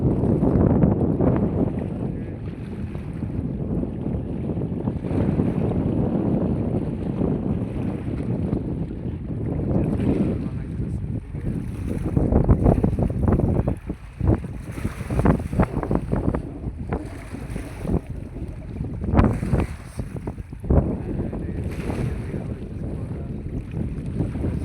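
Wind and water wash heard from a boat on the Buriganga river, a steady broadband rumble of waves slapping and gusts buffeting the microphone, continuous and fairly loud with no talk.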